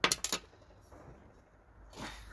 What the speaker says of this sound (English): let's pop a top and see what we've got